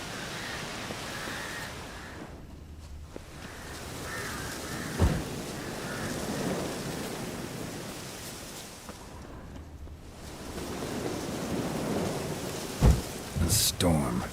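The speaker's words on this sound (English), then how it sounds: "A storm, damn it." Rain pours steadily in a video game thunderstorm, with thunder rumbling and cracking several times, including sharp close strikes near the end.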